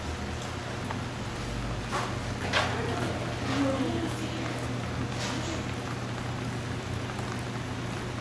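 Rain falling on the cover of a baseball bullpen, a steady close patter of drops over a low constant hum, with a few louder splashes standing out along the way.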